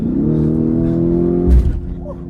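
A Lamborghini engine revs up hard with a rising drone, then crackles briefly as the throttle lifts, heard up close from inside the car.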